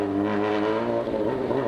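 Motorcycle engine running with a tonal ringing whine over its steady drone, close and continuous for just under two seconds, no talking.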